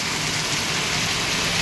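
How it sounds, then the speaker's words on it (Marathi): Heavy torrential rain pours down in a dense, continuous roar, loud and close, with no voices over it. "बघा ना पाऊस का एकदम धुवाधार पाऊस आहे."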